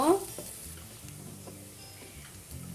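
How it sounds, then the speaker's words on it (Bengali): Chopped onions added to hot oil and stirred, a soft steady sizzle with a few faint scraping strokes, fairly quiet throughout. "পেঁয়াজ কুচিটা দেওয়ার পর ওইটা আমি ভালো করে নেড়ে নিব"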